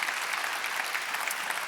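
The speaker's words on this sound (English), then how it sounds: "Please give him a round of applause" A conference audience applauds steadily as Luxembourg's prime minister, Xavier Bettel, is welcomed: dense, continuous clapping from a sizeable crowd, even in level throughout with no voices on top.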